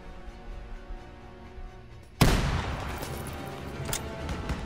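Battle gunfire in the World War II shooter Call of Duty: WWII, a low combat rumble breaking into a sudden loud blast followed by sustained crackling fire and scattered sharp reports, close and heavy.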